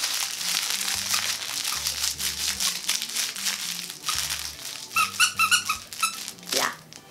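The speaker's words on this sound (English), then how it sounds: "They're just like bells, and they're crunchy, and they also squeak." Close-up crinkling and crunching of a plush dog toy being squeezed, with a few bursts of high squeaks toward the end.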